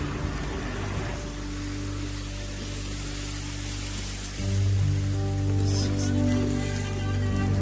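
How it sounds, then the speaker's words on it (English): Rain falling on a rainy day in Flushing, a steady hiss of drops on surfaces around, with a low engine-like hum building in partway through. "It's a rainy day."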